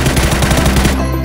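A rapid, loud burst of automatic gunfire in PlayerUnknown's Battlegrounds, about a dozen evenly spaced shots close by, stopping abruptly.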